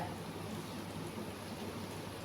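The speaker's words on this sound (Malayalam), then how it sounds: "പക്ഷെ ഞങ്ങൾക്കിപ്പോൾ ഇവിടെ നല്ല മഴയാണ്." Heavy rain pours outside a home as an even, continuous wash of patter, faint and distant, with no voices.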